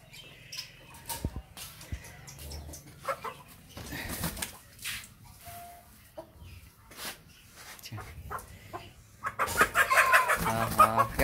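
Aseel chickens clucking and squawking while being shifted from one cage to another, scattered calls with flapping and handling noise, growing louder and busier near the end.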